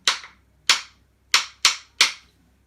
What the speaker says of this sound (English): You could even just use two sticks like our claves.